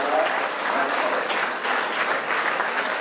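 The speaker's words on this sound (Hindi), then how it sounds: "और जोरदार ताली बजाकर पहली बार" Loud, sustained applause from a large audience honouring a cricketer's five-wicket haul at Lord's, steady clapping throughout with no breaks.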